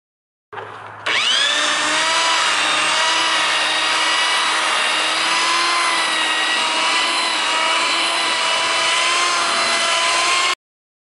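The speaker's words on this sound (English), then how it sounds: "just a little buffing, and you can definitely see a difference" Power polisher buffing old car paint with 3M polish, starting abruptly and running as a steady, close motor whine until it cuts off.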